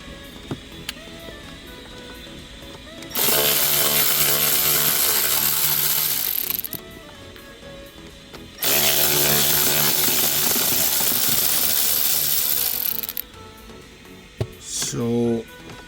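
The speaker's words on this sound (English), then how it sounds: "I need to disconnect this with taking these bolts off." A power tool spins out two T20 bolts from a Mini Cooper dashboard during heater core and AC evaporator work, in two long, loud whirring bursts separated by a short pause, with quieter workshop noise between them.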